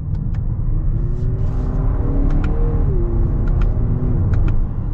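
A 2022 Lexus NX 350 F Sport driving, heard from inside as a steady low road rumble and engine drone with a faint rising whir, loud and continuous with no talking.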